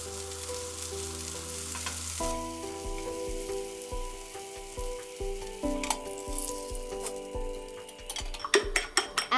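Butter sizzles and fries in a hot pan ahead of eggs for a toast sandwich, a steady close hiss with occasional clinks of a utensil against the pan, and no talking.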